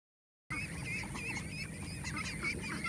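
A flock of domestic ducks in a harvested rice field gives steady overlapping honking calls, close and continuous, starting abruptly after a brief silence and running without any voices.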